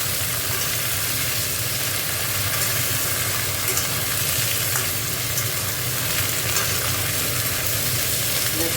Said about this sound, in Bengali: জিরেটা ভালো করে ভাজা হয়ে গেছে তেলে এইবার এই বিনস গাজর